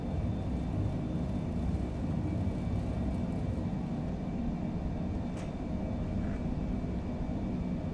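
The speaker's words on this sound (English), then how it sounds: "Takeoff thrust set, indications normal." Airliner engines roar at takeoff thrust in Microsoft Flight Simulator, a steady broadband rumble that holds constant throughout with a brief faint click midway.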